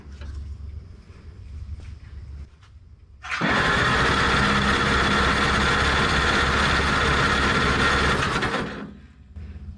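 A 1949 Farmall Cub tractor engine, carburetor freshly rebuilt, surges to a loud, steady roar as the throttle opens, holding near and constant for several seconds before dropping back to a lower idle, with no voices.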